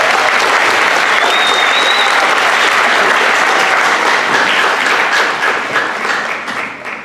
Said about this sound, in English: So a round of applause for the tech crew in the back.